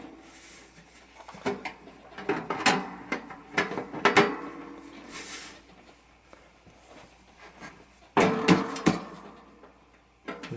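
Screws being fitted into the back panel of a Calore space heater make scattered metallic clicks, taps and scrapes up close, in irregular bursts with quieter gaps between.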